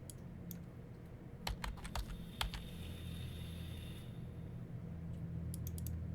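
Fingers type on a computer keyboard in quick irregular bursts of keystrokes, quiet and close, with pauses between runs and a low steady background hum, no speech.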